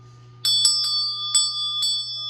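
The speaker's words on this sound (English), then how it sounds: "So I'm going to ring the chakra bell for you." A chakra bell is struck several times in an uneven sequence during a guided breathing meditation, each bright metallic ring sustaining with shimmering overtones above a low steady hum, clear and close with no voices.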